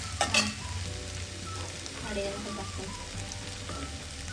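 Pasta fries in oil with masala in a pan, making a moderate, fairly soft sizzle. Clattering spoon strokes and scraping recur throughout, with a sharper cluster of clicks near the start.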